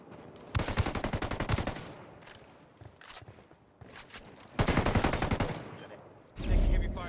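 Heavy automatic gunfire in Ghost Recon Wildlands comes in two long, loud, rapid bursts separated by scattered single shots and quieter gaps, ending in a deep booming blast.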